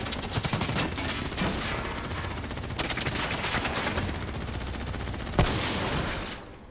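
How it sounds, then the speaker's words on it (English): Sustained gunfire in Call of Duty Black Ops III, with dense overlapping rapid shots rattling continuously at steady loudness before cutting off near the end. "Who's shooting?"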